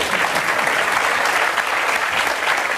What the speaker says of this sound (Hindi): एक अच्छी बात कर रहे हैं, ताली बजा दीजिए आप